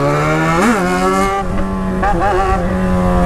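A Yamaha XJ6 motorcycle engine revs hard near the microphone, its pitch swooping up and down in quick bursts over a few seconds, with no talking.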